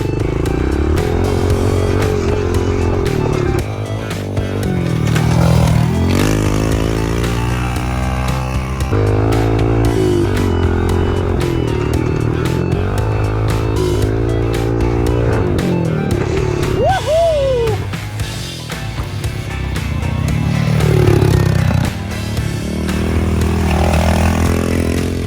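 Small motorcycle engine runs loud and close without a break, its pitch rising and falling with repeated revs and throttle changes over a low steady rumble.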